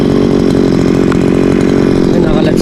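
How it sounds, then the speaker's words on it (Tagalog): A grass cutter runs in a rice field, its small engine droning loud and close with a steady buzzing rhythm throughout, no pauses. "matutuloy na yung ating pag-grass cutter"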